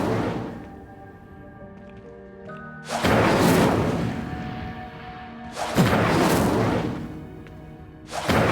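Incendio fire spells cast in Hogwarts Legacy, two loud whooshing bursts of flame roaring up and fading, separated by calmer game sound and a tonal hum, with a third burst starting at the end.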